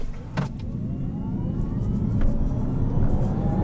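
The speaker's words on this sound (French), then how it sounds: "Vous entendez le petit son fake qui sort des enceintes" Artificial acceleration sound played through the cabin speakers of a 2024 Alpine A290 GTS in sport mode, a steady synthetic engine drone with rising tones that grows gradually louder, heard from inside the car.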